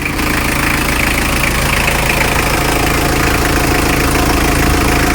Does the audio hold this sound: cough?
no